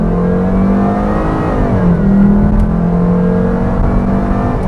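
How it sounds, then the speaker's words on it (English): A 2.4-litre naturally aspirated Volvo V70 wagon pulls away hard from a stop, its engine note climbing loud and close with a strong induction roar that holds steady for several seconds, and no voices over it. "there's a lot of good induction noise, and you could hear that it chirped the tires from a stop"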